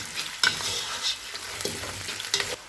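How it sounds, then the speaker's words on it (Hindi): Boiled mutton fries in ginger paste with a bright, steady hiss and sizzle, and a spoon stirs it in three or four distinct scraping strokes, near and moderately loud, without speech. "2 से 3 मिनट तक मटन को अदरक के पेस्ट में फ्राई करेंगे।"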